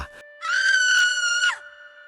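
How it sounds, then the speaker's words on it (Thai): A woman's long, high-pitched scream rings out in a forest, a single sustained cry lasting about a second before cutting off, loud and close. "เสียงกรีดร้องของพี่สาวดังสะท้อนก้องไปทั่วป่า"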